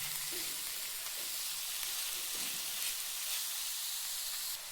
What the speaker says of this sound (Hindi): इसमें डाल देंगे कटा हुआ टमाटर, साथ में ही शिमला मिर्ची। अब इसको हम मिक्स कर लेते हैं।